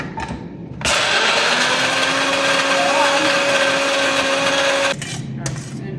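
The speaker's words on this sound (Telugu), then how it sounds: "ఇప్పుడు అన్నీ మిక్సీకి వేసేసుకొని కొట్టేసుకుంటాం" A mixer grinder whirs loudly and steadily for about four seconds while blending ridge gourd chutney ingredients, with quieter kitchen sounds before and after.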